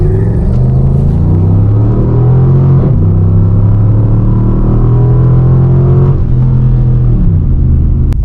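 Dodge Charger RT AWD launching from a standstill in a 0-60 run, forced all-wheel drive with sport mode on. Its engine roars loud and close with a steady climbing pitch, and brief dips mark gear shifts.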